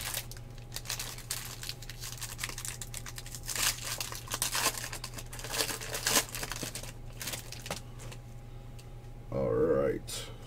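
2015 Bowman Jumbo baseball card packs torn and crinkled open, with scattered bursts of ripping foil and paper rustle, close and fairly quiet, over a low steady hum.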